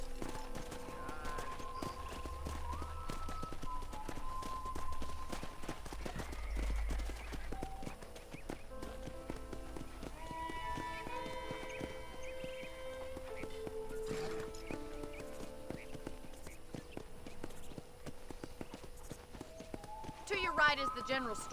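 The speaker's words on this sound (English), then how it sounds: "I picked out a fine horse for you. Let's make a tour of the ranch" Horse hooves clip-clopping steadily on a ranch tour in the video game Red Dead Redemption, a continuous riding rhythm beneath ongoing dialogue and faint background music.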